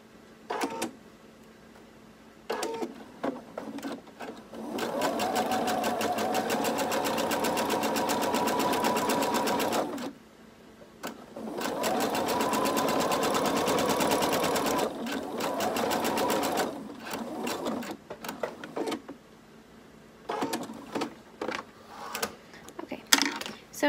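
A home sewing machine runs a long straight stitch on a maxi skirt, with two sustained close bursts of rapid mechanical chatter separated by pauses, plus scattered clicks and handling noises between runs.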